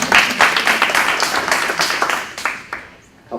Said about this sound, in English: So I'm going to applaud you.